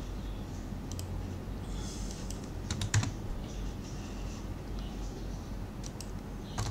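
Someone types on a computer keyboard while laying out a newspaper page, with steady close key clicks, a sharper press of the Enter key partway through and quick bursts of typing near the end.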